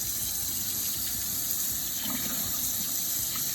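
A block of ice rinsed under warm running tap water, the faucet stream pouring steadily and close, a constant splashing flow without any voices.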